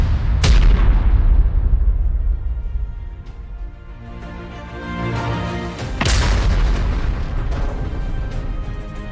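Grad rocket salvos and artillery fire on a front line in Zaporizhzhia: two loud, close booms several seconds apart, each trailing into a long rumbling roar that fills the space between them.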